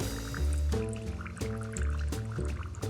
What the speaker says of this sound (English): Pour just a little bit of that watery caramel.